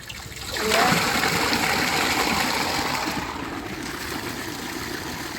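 Water pours from a tank into a container, a steady loud gushing splash that swells in within the first second and runs continuously, easing slightly toward the end.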